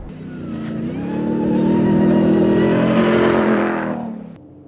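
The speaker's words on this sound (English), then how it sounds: "a 700 horsepower supercharged massive V8," A 2021 Ram TRX pickup with a 700 hp supercharged V8 accelerates hard, its engine note rising and swelling loud over several seconds, then dropping off sharply at the end.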